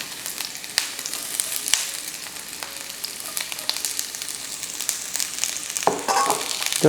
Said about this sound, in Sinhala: ලුණු ටික පොඩ්ඩක් මේක බැදෙනකන් තියාගන්න ඕනේ